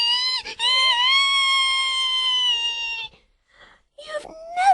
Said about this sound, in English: And that was when Crummy Dummy screeched.